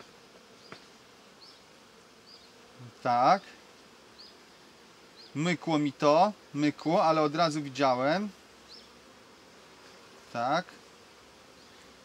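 Bees buzz steadily throughout a hive inspection of a freshly caught swarm, their hum rising in brief louder bursts as they fly close to the microphone, while someone speaks in short remarks between them.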